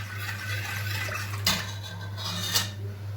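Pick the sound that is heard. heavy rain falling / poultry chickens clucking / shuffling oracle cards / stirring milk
stirring milk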